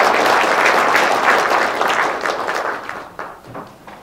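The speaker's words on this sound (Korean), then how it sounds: "자리에는 없지만 힘찬 박수로 부탁드립니다." An audience at a press conference applauds, a dense, loud wash of clapping that fades steadily over about four seconds as it thins out to scattered claps.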